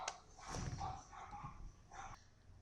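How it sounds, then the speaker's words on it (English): A few dog barks in quick succession at moderate distance, set against a steady background hum with no one speaking. "And I'm really sorry for the dogs barking."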